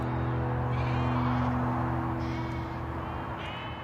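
Sheep bleat repeatedly in a farm setting ahead of an agricultural show in Yorkshire, several wavering calls rising over a steady low mechanical hum, moderately close and fairly loud.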